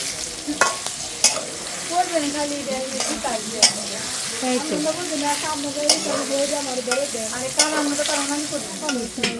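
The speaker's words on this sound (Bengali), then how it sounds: "দুই পাশে পটল ভাজি করা হচ্ছে" Pointed gourd fries in oil with a close, steady crackling sizzle, broken by sharp clicks of a spatula stirring and turning the pieces in the pan.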